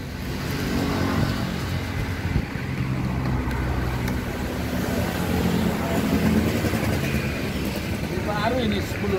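A motorcycle engine runs close by with a steady, rough rumble and slight rises in revs, heard on a street in Indonesia with voices mixed into the background.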